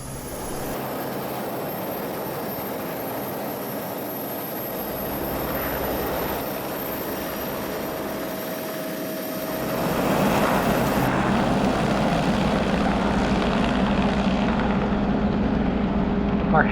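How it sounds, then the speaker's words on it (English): A Squirrel helicopter flies over icebergs and the Antarctic coast, heard from inside the cabin as a steady engine and rotor drone that grows somewhat louder and fuller partway through. "Our helicopter ride took us over icebergs, humpback whales, and along the coast"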